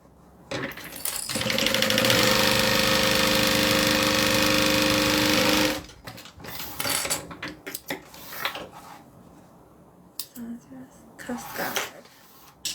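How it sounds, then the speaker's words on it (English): A sewing machine runs in a steady burst of about four seconds while stitching a bag's front panel to its bottom, then stops, followed by fabric handling and a person talking. "Going to line that up to the bottom and sew those two together."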